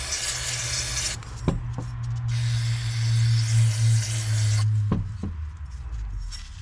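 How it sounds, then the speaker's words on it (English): Carb cleaner hisses from an aerosol can onto a part of a Toro Timecutter Z4200 zero-turn mower in two long, close, loud bursts, with a few light knocks in the pause between them. "Just use a little bit of carb cleaner."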